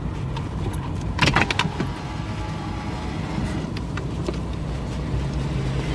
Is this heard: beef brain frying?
no